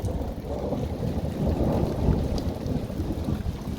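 Continuous rolling thunder rumbles through a thunderstorm with steady rain, a dense unbroken low roar that never fades.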